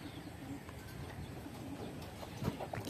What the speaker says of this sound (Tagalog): Dami mga kalapatid.